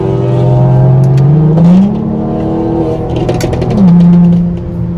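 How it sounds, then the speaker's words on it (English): Tuned Ford Focus with an aftermarket catback exhaust revving hard nearby, its loud engine drone climbing in pitch twice as the throttle is blipped, with sharp crackles that could be backfire pops. "his Focus backfires like crazy"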